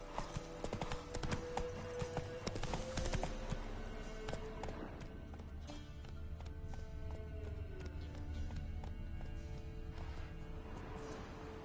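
A horse gallops under its rider in The Witcher 3, its hoofbeats a fast and steady clip-clop that runs unbroken for the whole stretch, loud and near, over ambient game sound.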